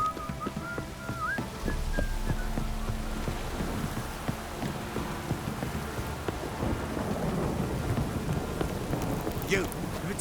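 Steady heavy rain in the video game The Witcher 3 hisses across the scene with low rumbles of thunder rolling underneath and a brief high whistle near the end.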